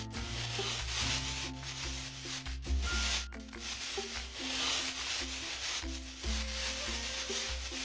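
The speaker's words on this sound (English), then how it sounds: "Use the scraper to smooth out your bowl." In a kids' wood carving video game, a scraper smooths a wooden bowl, making repeated rubbing, scraping strokes in close succession over faint background music tones.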